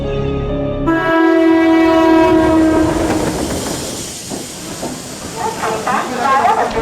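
A train at Borivali railway station sounds a long, loud horn blast, then its carriages rumble and clatter past with hissing and rhythmic rail noise, close and prominent.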